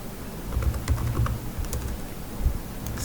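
Fingers typing on a computer keyboard, a close run of light clicking keystrokes in quick irregular bursts, with no voices.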